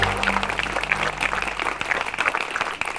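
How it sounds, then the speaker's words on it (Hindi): Schoolchildren at a school gathering applaud a visiting guest, a dense, steady patter of many hands clapping together that rolls on without pause. "बच्चों, माननीय अतिथि जी का स्वागत तालियां बजाकर कीजिए।"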